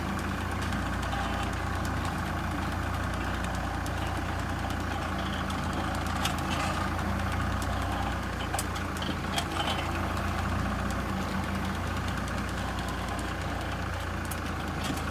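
A Kubota Grand L 4060 tractor runs steadily while its PTO auger digs post holes, giving a continuous mid-pitched engine drone with a faint knock, loud and unbroken for the whole stretch.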